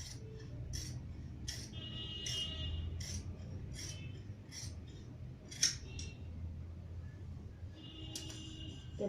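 Scissors snip through fabric while cutting a kurti sleeve outline and notch, a string of short crisp blade clicks spaced about every half second, close and moderately loud over a low steady room hum.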